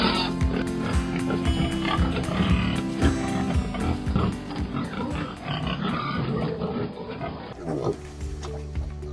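Pigs on a large United States pig farm grunt and oink, their snorting chorus sitting beneath a steady narrating voice and a music bed.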